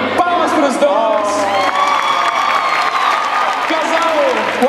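Audience applause and cheering for a couple on stage at a geek show K-pop challenge; loud continuous crowd noise with whoops and shouting voices throughout.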